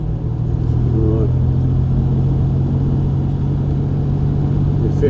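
A Jaguar E-Type V12 drones steadily at around 2,000 rpm while driving on the road, a loud, even low rumble from inside the car with a voice talking over it.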